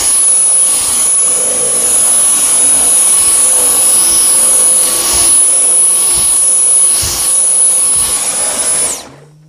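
A Dyson V10 Motorhead cordless vacuum roars loudly at close range while deep-cleaning stairs, with a steady high-pitched whine and slight surges as the head moves, then cuts off abruptly at the end.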